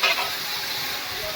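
Dal simmering and being stirred in a pan while a feast is cooked for a family ceremony, a steady sizzling, bubbling hiss close by with a soft stir at the start and no talk.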